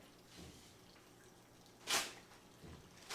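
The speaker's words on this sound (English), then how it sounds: "steady drip of water." Water dripping steadily onto a Jolly Rancher candy in an erosion setup, a few soft isolated drips with one sharper splash, quiet and close.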